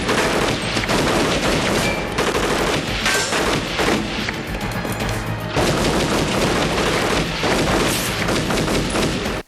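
Dense, sustained gunfire from an action movie shootout aboard a hostage-taken train, with rapid overlapping bursts and booming shots filling nearly ten seconds, loud and continuous with brief lulls.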